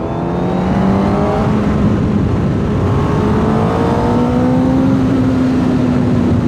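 Honda CBR 1000 RR sport motorcycle engine revving and accelerating hard, its pitch climbing steadily in a loud, continuous roar close by with no talking.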